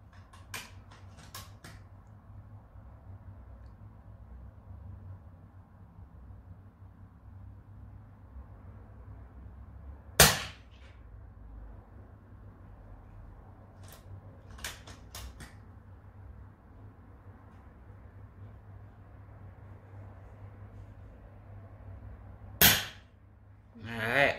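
Air rifle shots, FX Wildcat or RM8, crack out in a back garden while plinking: a few sharp, isolated reports spaced seconds apart against a quiet outdoor background.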